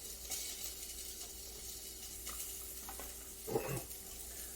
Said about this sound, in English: We're going to add some leeks to this pot here. Hear that sizzle?